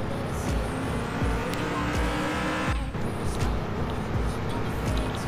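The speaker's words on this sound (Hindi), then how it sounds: "पहला फोर्ड मस्टैंग लेकर जाते हैं" Ford Mustang engine drone in a video game, a steady loud motor hum with tire noise running the whole stretch, briefly dipping near the middle, with no talk over it.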